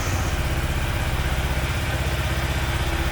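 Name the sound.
Yamaha XSR125 motorcycle engine starting and idling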